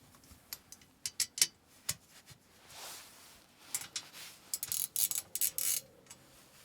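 A hex key tightens a quick-release clamp on a rear Molle panel of a 5th-gen Toyota 4Runner, producing close, quiet, irregular metallic clicks and ratcheting ticks with short scraping in between.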